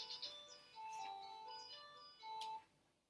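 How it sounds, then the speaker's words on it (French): A telephone rings with a faint, thin electronic melody of short tonal notes, quiet and somewhat distant in an otherwise calm room. "téléphone qui ne sonne jamais, qui se met à sonner"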